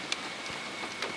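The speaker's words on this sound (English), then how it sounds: "the rain isn't that bad anymore" Steady rain falling outdoors, a soft continuous hiss with a few sharper drop patters standing out, fairly quiet and with no voices.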